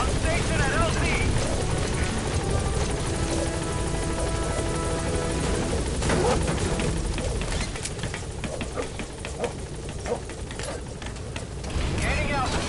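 In the Metal Gear Solid 5 video game, a helicopter arrives at a landing zone with a loud, steady rotor roar that holds close throughout. A radio voice talks over it.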